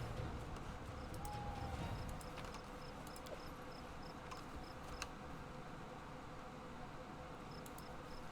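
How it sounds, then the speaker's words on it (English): A lone cricket chirps in the video game Pathfinder: Kingmaker, faint regular short pulses repeating steadily over a low ambient game background with no talk. "Lone crickets like this, they drive me insane."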